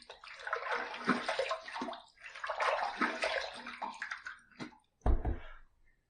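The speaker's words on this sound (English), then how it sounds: "Let's rinse." Running water rinses a razor clean, a steady broadband splash with brief pauses and a final short burst of flow and knocking near the end.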